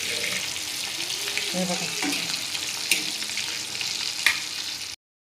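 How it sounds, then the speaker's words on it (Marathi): Shipla fish fries on a low flame, a close steady sizzle broken by scrapes and a couple of sharp clicks as the pieces are turned in the pan. A voice speaks briefly near the end before the sound cuts off. "आता यांना चांगलं परतून घेऊ।"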